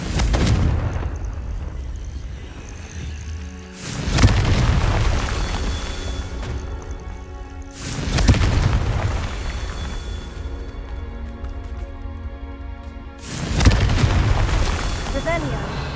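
Confringo explosion spell blasts in Hogwarts Legacy, four loud booming bursts spaced a few seconds apart, each with a sharp onset and rumbling decay over a steady game soundscape.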